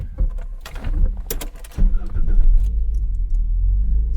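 A Renault 9 with clutch problems and a rough idle drives on a busy road, its engine rumbling low and surging as it pulls away, with a brief clatter early on and no voices.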